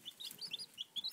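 Cornish Rock, Red Sex Link and Brown Leghorn chicks peep in quick, high, thin chirps, several overlapping in a rapid, close-up cluster.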